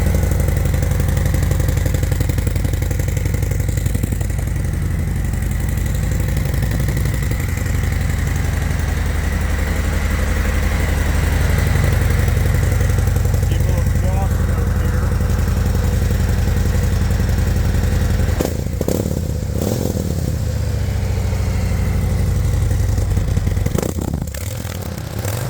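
A Harley-Davidson CVO 121 motorcycle engine on stock exhaust idles loud and close with a steady, loping rumble and mechanical clatter, a few brief blips and scrapes near the end.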